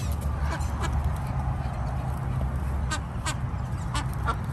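Geese honking and quacking around people feeding them, repeated short calls over steady outdoor background noise.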